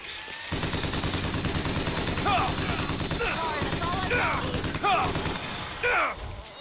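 Rapid rattling bursts from a crank gun in Bioshock Infinite, a dense, unbroken stream of close, loud shots running almost the whole time, with shouted voices and groans cutting through the firing.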